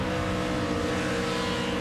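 NASCAR race cars lap the Las Vegas track with a dense, steady engine roar that fills the whole stretch, loud and unbroken, with no voices heard.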